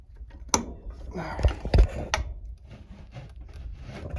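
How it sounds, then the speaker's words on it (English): A Craftsman lawn mower engine's flywheel is turned by hand, giving close, dry wooden-sounding rubs and a few sharp knocks and scrapes, then a quieter rasping shuffle. "So I'm gonna rotate this flywheel."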